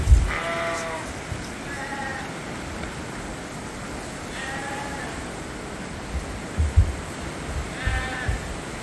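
Lambs bleating outdoors on a sheep farm in spring: several short bleats at a moderate distance, spaced apart over soft outdoor background noise, with a few light thumps near the end.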